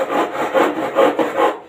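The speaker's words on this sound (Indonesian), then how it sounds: "Kita gergaji juga." A hand saw cuts a corner joint in wood or gypsum cornice with steady back-and-forth rasping strokes, about four per second, loud and close with no talking.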